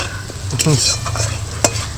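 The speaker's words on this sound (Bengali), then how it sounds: "মশলাগুলো সব ভাজা হয়ে গেছে" Spices frying in a pan for a potato snack, a steady sizzle under brisk stirring and scraping, with a sharp clink near the end; close and moderately loud, no talking.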